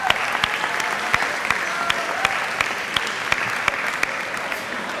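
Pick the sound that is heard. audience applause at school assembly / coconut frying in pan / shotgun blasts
audience applause at school assembly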